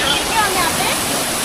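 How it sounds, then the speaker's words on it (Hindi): A waterfall beside a cave at the Bhadrakali temple in Bageshwar, Uttarakhand, pours in a loud, continuous broadband rush that fills the whole moment up close. "ये झरना है।"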